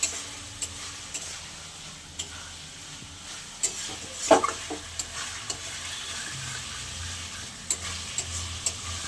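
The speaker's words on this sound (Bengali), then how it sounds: "বাপি এখানে চিকেন কষাটা করে নিচ্ছে" Chicken is stirred and fried in a pan for kosha. A steady sizzle runs underneath, broken by scattered spatula scrapes and clicks, with one louder clatter near the middle.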